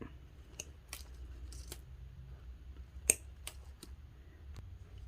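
Scissors snip artificial flower stems short for mini bouquets, a handful of sharp, separate clicks spread over a few seconds, close and fairly quiet against a faint background hum.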